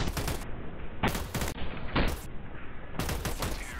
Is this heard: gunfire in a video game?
yes